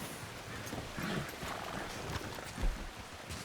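A horse in Red Dead Redemption 2 gives a faint whinny alongside soft hoof steps, with a thump near the end, all low and somewhat muffled within the game's ambient background.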